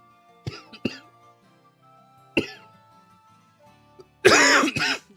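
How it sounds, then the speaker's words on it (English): A person coughs several times, close and dry: two quick coughs, another after a pause, then a louder burst of harsher coughing and throat clearing near the end. "I'm not trying to cough all over you guys."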